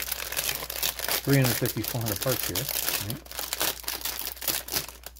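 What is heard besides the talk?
plastic bags of a Zvezda model kit crinkling as opened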